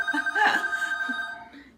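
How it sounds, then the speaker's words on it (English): A telephone rings indoors in a home kitchen, a bright trilling electronic ring with steady tonal pulses, moderately close, briefly overlapping faint voices. "I'm sorry for the phone interruption."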